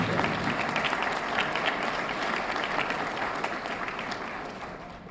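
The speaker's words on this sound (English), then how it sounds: "Round of applause for Kevin Grantham." Applause from an assembled crowd at a New Orleans EMS awards ceremony honoring first responders, steady dense clapping that carries throughout and slowly tapers near the end.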